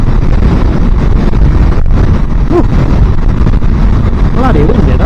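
Heavy wind buffeting the microphone while riding a small-engine motorbike on an early morning ride, a constant loud roar throughout with faint engine tones and a rider speaking underneath.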